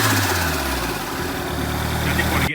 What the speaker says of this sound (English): I cannot believe how well that this car revs now with them solids in.